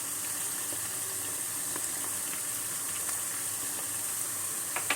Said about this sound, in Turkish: Şimdi bunları güzelce kavuracağız